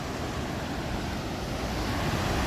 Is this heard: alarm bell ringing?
no